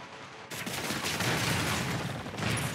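Fisk opens fire with a gun during a boss fight in Marvel's Spider-Man: after a quiet start, a loud sustained burst of rapid shots and impacts fills the rest of the moment.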